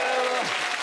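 A television comedy panel show audience gives a brief, dense burst of clapping that stays even and loud throughout.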